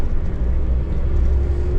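Steady low engine rumble from a coach bus on Glastonbury 2024 festival shuttle runs, a continuous close drone with no clear break or rev change for a gear shift.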